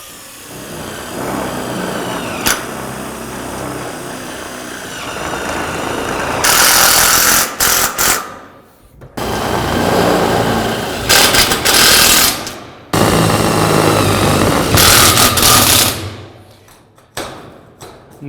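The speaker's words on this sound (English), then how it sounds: "Take that off, and we proceed then to screw it off." A power drill driving screws into shed wall sheeting, heard as loud bursts of whirring and rattling of several seconds each, separated by brief pauses, close by with no talking.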